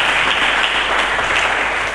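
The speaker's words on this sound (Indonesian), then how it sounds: "Berikan tepuk tangan yang meriah bagi Yesus Kristus Tuhan" Steady, dense clapping from a church congregation during a sermon, a continuous even roar of many hands with no voices rising above it.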